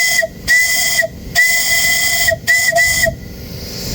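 A homemade steam whistle in a garage gives several loud, shrill toots of varying length over a continuous rushing hiss of steam, very close and piercing.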